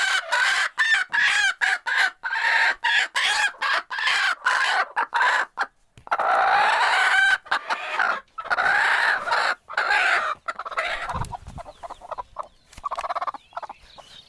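Desi hens in a coop give a near, continuous run of clucks and throaty calls with short pauses, and a rooster-like crow breaks in at one point.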